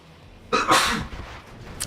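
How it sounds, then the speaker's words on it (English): A single sharp sneeze bursts out close to the microphone, a quick intake followed by a loud explosive release, with a faint noise trailing at the end against a quiet background. "I'm sneezing here."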